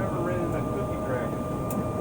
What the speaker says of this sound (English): I can't believe we're on an airplane again